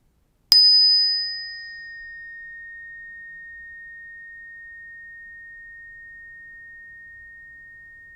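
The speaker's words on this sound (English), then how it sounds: "we'll listen for the bell one more time." A single bell strike closes a chair yoga session, one clear bright ding followed by a pure, sustained ringing tone that decays slowly over several seconds into near silence.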